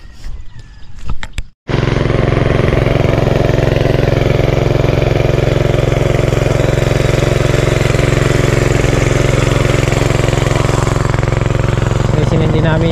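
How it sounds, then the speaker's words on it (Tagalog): A gasoline engine powering an irrigation water pump in a corn field starts up after a short burst of talk, then runs loudly and steadily at close range with a constant mechanical drone. "So, sinindi namin yung makina para makapatubigan pa."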